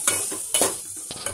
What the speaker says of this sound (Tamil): இந்த மசாலோட பச்சை ஸ்மெல் போகட்டும் அப்படிங்கிறதுக்காக கொஞ்சமாக நம்ம லைட்டாக பரட்டி விட்டுக்கலாம்